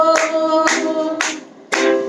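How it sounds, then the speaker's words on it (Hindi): A worship congregation sings together, with four sharp group claps landing on the beat under the loud singing in a steady rhythm. "सारे मिलकर ताली बजाओ"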